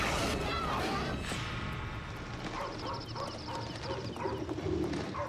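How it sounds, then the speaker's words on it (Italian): Birds calling at night, with pigeon- or dove-like cooing phrases repeating over a dense, steady background, moderately loud and continuous with no talk. "Guarda, quegli uccelli."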